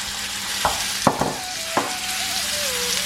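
Pork belly pieces tossed into darkened, melted sugar in a pan for Chinese-style pork belly braised in beer, giving a steady sizzle broken by a few sharp clanks and scrapes, with no one talking.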